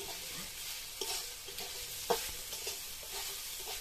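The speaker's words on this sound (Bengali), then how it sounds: "এবার একটু নেড়ে নেবো" Peanuts being stirred in a pan while making chira pulao, with a quiet hiss of frying under occasional light scrapes and taps of a spatula.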